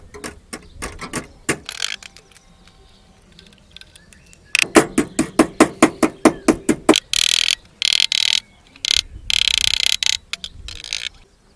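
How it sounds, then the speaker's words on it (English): A hammer taps a metal panel into place on the rusty sill of a Skoda Fabia Mk1 in quick rhythmic bursts, sharp ringing strikes close by, some in rapid runs, with brief pauses between groups. "Then tap it and mould it into place with a hammer."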